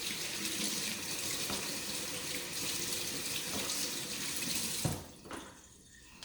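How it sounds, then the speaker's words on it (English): Running water from a kitchen tap splashes steadily as hands are washed beneath it, close and fairly quiet, then the flow cuts off near the end, leaving a brief hush. "so now I'll wash my hands."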